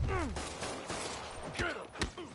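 Rapid gunfire from the video game Marvel's Spider-Man, sharp bursts crackling near and loud over a busy game soundscape, with shouted voices and tonal effects sweeping through.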